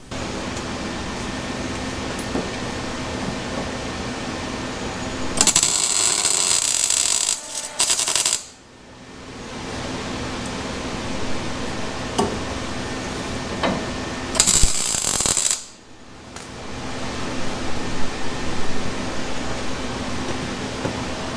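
Arc welder tacking steel brackets in place for a shock relocation on a Chevy Nova, two bursts of crackling buzz a few seconds each, close and loud, separated by a steady background hum.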